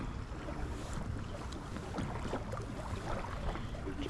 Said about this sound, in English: Wind's dying down, which is good.